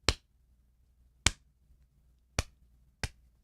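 Four sharp, crisp clap samples added to a music track, each a single dry hit with a quick decay, spaced irregularly about a second apart against silence.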